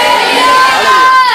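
A church congregation at a Punjabi Christian service shouts a loud jaikara cheer in unison, a brief, close, forceful burst of many voices.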